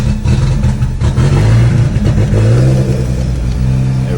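A car raised on a lift is restarted, its engine running loud and close with rumbling revs that rise and settle, exhaust throbbing steadily throughout.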